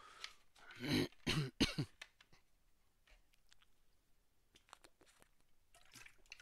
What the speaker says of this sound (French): qu'on m'entende tousser tout le temps